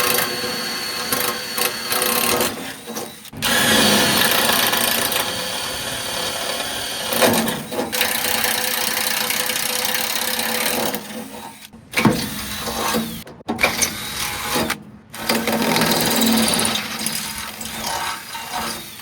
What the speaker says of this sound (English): I'm gonna take the clamp off and then drill the actual holes.